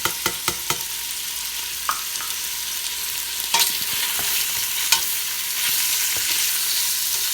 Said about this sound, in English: I'm going to saute this for about 5 minutes before I add the garlic